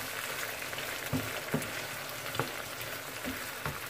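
Jamaican-style ackee sizzles quietly in a pan, a soft continuous frying hiss broken by a few light clicks and taps of a spoon stirring at irregular intervals.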